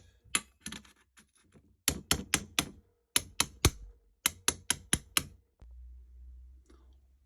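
Sharp taps ring out on a radio-control car bearing as it is worked loose after a spray of W40, arriving in quick clusters of four to five close, crisp clicks with short gaps between, with no talk over them.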